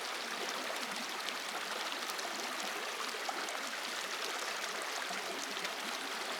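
Flowing stream water along the Hopper House Trail at Cherry Springs, a steady, even wash of rushing and trickling water with no voices over it.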